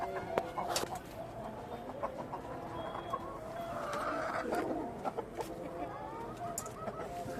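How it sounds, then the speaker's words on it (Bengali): Local desi chickens on a six-storey rooftop garden cluck and call repeatedly, with some crowing-like cries, moderately near, over a soft ambient background. "দেশি মুরগি মাশাল্লাহ"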